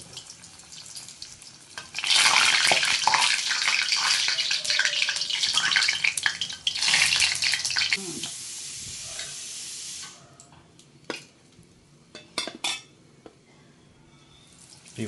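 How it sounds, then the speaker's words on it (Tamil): Bread balls sizzle loudly in hot oil, a dense crackling hiss that runs for several seconds, then fades to scattered pops and clinks. "இதில் வந்து நம்ம பிரெட் பால்ஸ் எல்லாம் அப்படியே பொரிச்சு எடுத்துக்கலாம்"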